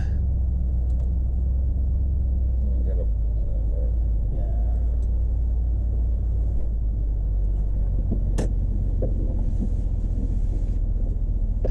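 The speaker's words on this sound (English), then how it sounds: "So here we are now backing up onto the loading dock" A heavy loaded truck reverses onto a loading dock in downtown Ottawa, giving a constant deep engine rumble close to the microphone, with wind buffeting and a few faint clanks over it.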